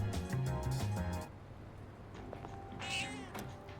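A cat meows in the video game Persona 3 Reload, a short run of clear mewing calls over game music, followed by a quieter stretch and a brief higher chime.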